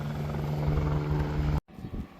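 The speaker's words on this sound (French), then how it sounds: "Il y a l'hélicoptère." A helicopter passes overhead outdoors near a wildfire in Portugal, a steady loud rotor drone with a low pulsing beat that cuts off abruptly, then resumes more roughly.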